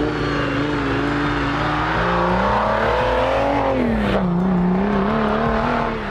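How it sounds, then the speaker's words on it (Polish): Off-road 4x4 with an OM606 diesel engine racing in a hard 4x4 rally, loud and close, the revs climbing and dipping in long sweeping pitch changes as it accelerates and lifts off, then pulls hard again. "Dobra, patrolat OM606. Dobrze wysterowany silnik."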